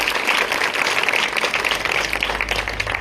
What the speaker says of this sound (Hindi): 6 बच्चों के लिए जोरदार तालियां हो जाए